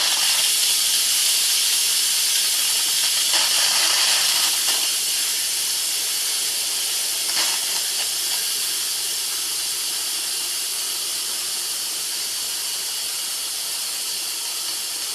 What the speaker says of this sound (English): stand back when you open the pressure valve because it will spray steam all over